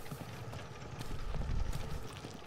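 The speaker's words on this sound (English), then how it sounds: "Ox drawn wagon." Hooves of an ox-drawn wagon in the Scarlet Hood and the Wicked Wood game, a steady clip-clop rhythm of plodding steps with low rolling rumble, fairly close and unaccompanied by talk.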